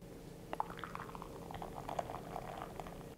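Water is poured gently into a bowl of ceremonial matcha, a faint, soft liquid trickle with small splashes in a quiet room.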